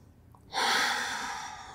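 A single long breath is exhaled during a Pilates exercise, a close, breathy rush that starts abruptly after a quiet pause and slowly fades.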